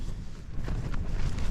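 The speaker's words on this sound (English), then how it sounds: "this wind's just not going away" Strong wind gusting across an open fell at a Dodd Fell wild camp, a loud buffeting roar hitting the microphone in uneven surges, with no talking.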